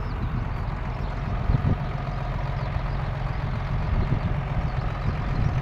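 A tractor that has sunk its subsoiler works close by, its engine a steady, loud, low rumble that holds evenly throughout without any voices.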